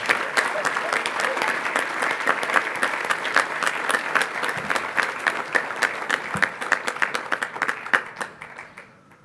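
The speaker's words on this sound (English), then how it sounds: "Let's have another round of applause for Mr. Sorge's advisory" Crowd applause at a Landon eighth-grade class day ceremony: a long, full round of clapping from many hands, steady for most of its length, then thinning to a few scattered claps as it fades out.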